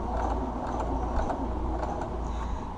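A sewing machine stitches fabric for a baby sports jersey, a close rapid mechanical chatter of gears and needle strokes with steady rhythm and slight pauses.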